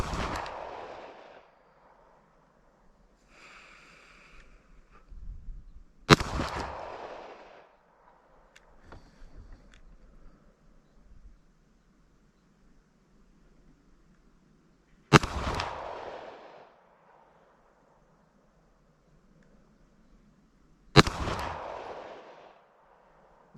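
Shots from a Beretta APX A1 Compact pistol at a shooting range come as four sharp, loud single reports spaced several seconds apart, each with a brief echo, and faint handling noise between them.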